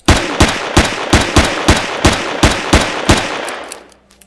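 Gunfire in the video game Empyrion, with a loud, close, steady burst of about ten evenly spaced automatic shots that ends in a fading tail.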